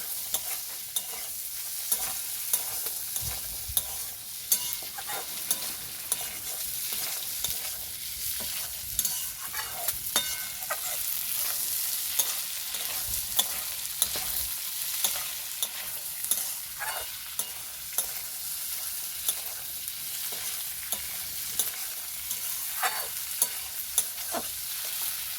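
Peas fry with a steady soft sizzle in a pan while a spoon repeatedly scrapes and knocks against the metal, an irregular stirring rhythm running through the whole stretch with no talking.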